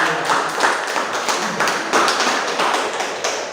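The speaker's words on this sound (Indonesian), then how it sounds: "tepuk tangan buat kelompok" Classroom applause for a presenting student group: a dense, continuous run of many hands clapping at once, fairly close and loud, holding an even level throughout.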